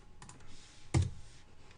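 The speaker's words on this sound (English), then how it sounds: "I'm going to hit Command T to trim the end of that." A few soft keyboard clicks come first, then one sharper, louder key press as a shortcut is struck, close and otherwise quiet.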